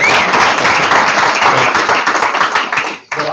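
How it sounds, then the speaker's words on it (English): An audience applauds at a startup pitch event at Google, dense clapping from a crowd held steady for about three seconds before cutting off abruptly. "Can we give you a round of applause?"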